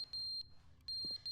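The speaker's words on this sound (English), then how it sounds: "Oh, this is an awful beep sound." Shrill electronic alarm beeps in the video game The Stanley Parable, two bursts separated by a pause, with a faint low voice murmuring under the second burst.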